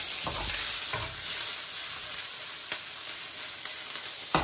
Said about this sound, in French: Un bon morceau de beurre dans notre poêle. On met les oignons direct.